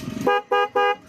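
Four horns fitted to a Yamaha R15 V3 motorcycle blare together in three short, loud, close blasts, each a bright layered tone with brief gaps between.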